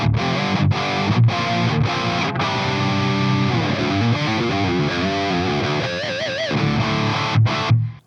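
Gibson V electric guitar on its bridge pickup, played through distortion: loud, thick sustained chords and ringing bent notes with a few sharp accented stabs, running continuously with no talk.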